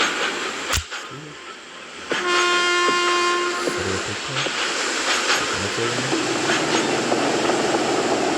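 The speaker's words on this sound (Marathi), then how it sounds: "आपली एक्सप्रेस ट्रेन आहे असं वाटतं." An express train running over a river bridge, loud and continuous rumble with a sustained horn blast and rhythmic clatter of wheels, close by and filling the scene with no talk.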